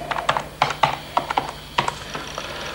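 Fingers tap a computer keyboard in quick, irregular clusters of clicking keystrokes while entering a phone number into a reverse lookup. The typing is close and steady over a few seconds.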